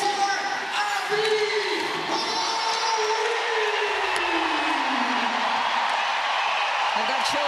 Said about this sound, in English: That crowd just coming alive for Abby Boreen in the Victoire here tonight